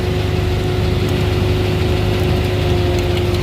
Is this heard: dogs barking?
no